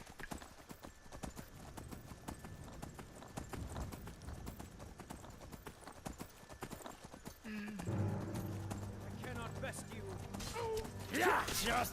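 Horse hooves clip-clop steadily in Skyrim, a regular near-field trotting rhythm, joined later by background music and a neigh, loud and close.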